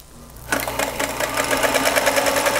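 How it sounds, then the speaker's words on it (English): A small Singer Featherweight sewing machine runs a straight stitch through quilt pieces. After a brief quiet start it kicks in with a fast, steady mechanical chatter held close and clear to the end. "I love my little Singer featherweight. It just does straight stitch forward and back"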